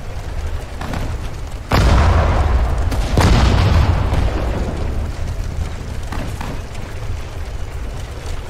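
A tank's main cannon fires in a World War II–era war game set at the Battle of Sedan, a sudden heavy boom near 1.7 s and a second blast near 3.2 s, each trailing into a long rumbling decay under steady battlefield noise.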